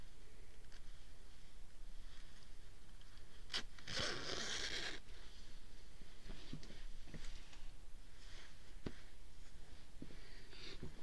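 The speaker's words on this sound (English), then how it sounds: "if the zipper works." A zipper on a plus-size jacket run along its track, one brief rasping zip burst standing out amid faint handling rustles and a few small clicks in a quiet room.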